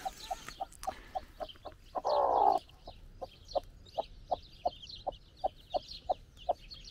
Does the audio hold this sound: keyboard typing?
no